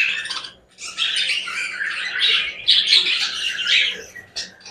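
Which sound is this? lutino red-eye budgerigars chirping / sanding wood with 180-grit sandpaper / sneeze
lutino red-eye budgerigars chirping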